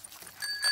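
Two quick metallic rings from the bell on a cartoon pig's bicycle, bright and close, the second ring slightly louder, with no talking over them.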